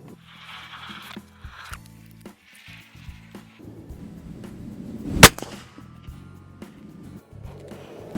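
A single sharp rifle shot cracks out close by during a scope test at 8x magnification, standing out against faint rustling and handling noises.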